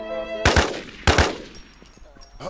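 Two loud, close gunshot bursts ring out in a firefight scene involving a firefighter crew, with reverberant tails and scattered clicks between them.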